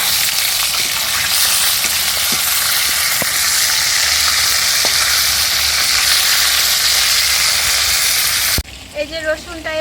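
Fish dropped into a frying pan sizzles in hot oil, a loud dense hiss that holds steady for several seconds before stopping suddenly, followed by a short burst of speech.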